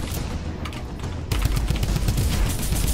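Rapid shotgun blasts from 8-bit Fortnite play, with a quieter volley first and then a louder, dense run of closely spaced shots that continues to the end.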